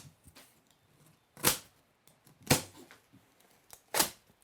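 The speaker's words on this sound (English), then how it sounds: "we're going to take your knife and we're going to cut straps" Sharp cutting snaps as a knife slices through plastic straps on a boxed Surface 604 Shred bike, three distinct loud cuts about a second apart with faint rustling between.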